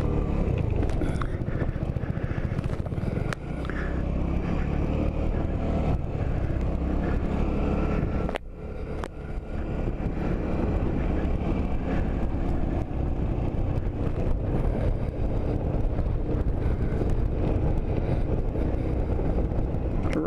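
Suzuki Burgman 200 scooter riding down a mountain road, a steady engine drone with wind rush filling the whole stretch at close range, briefly dipping once midway before resuming.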